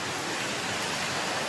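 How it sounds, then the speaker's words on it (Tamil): Heavy rain pours down in a steady, dense hiss, with spray blowing in close by, continuous and loud with no voices. "செம்ம மழை பெய்யுது"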